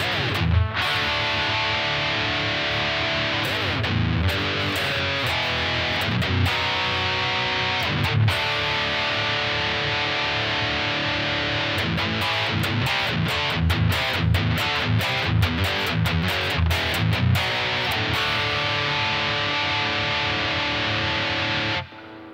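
Electric guitar played through a Blackstar ID 260 amp on a clean preset with only reverb, steady sustained chords and picked notes filling the whole stretch at an even, fairly loud level, with no talking.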